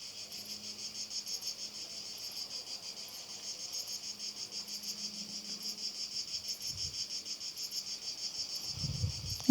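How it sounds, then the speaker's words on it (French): Cicadas drone steadily outdoors in a continuous pulsing chorus, rising slightly in loudness, with a faint low rustle near the end. "Ici, tu entends peut-être le bruit des cigales."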